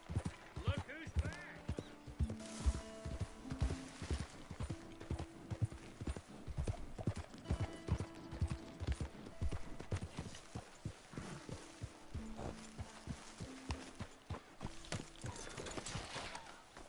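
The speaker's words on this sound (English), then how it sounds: "I'm used to riding a horse" Horse hooves clip-clopping at a steady riding pace in the video game Red Dead Redemption 2, close and rhythmic, with a music score and short bits of dialogue over it.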